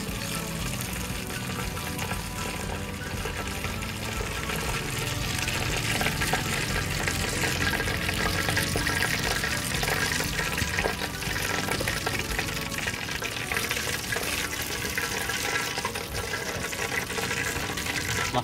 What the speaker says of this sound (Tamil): சிக்கன் லெக்ஸ் நல்லா ஃப்ரை ஆயிடுச்சுங்க.